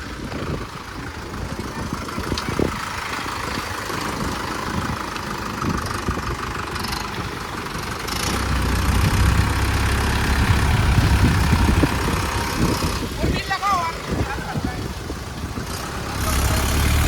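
A 4x4 tractor engine idles with a low, knocking rumble that swells louder midway while towing beside a broken canal, close by, while people talk over it.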